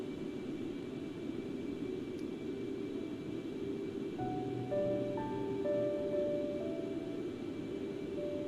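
Concorde jet engines during a cruise climb in X-Plane 11 give a steady, muffled cockpit roar, with a short run of electronic tones partway through.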